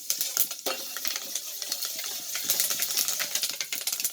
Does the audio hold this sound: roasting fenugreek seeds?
yes